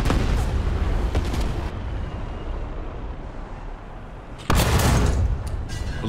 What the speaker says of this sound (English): Right, out of the way of the artillery.